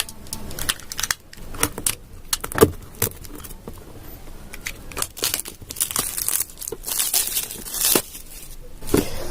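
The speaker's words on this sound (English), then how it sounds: "Okay, let's unbox this." Packaging for Crossbeats Wave waterproof Bluetooth headphones is crinkled, torn and handled up close, with irregular sharp crackles, rips and plastic rustling in bursts throughout.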